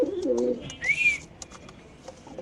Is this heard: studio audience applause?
no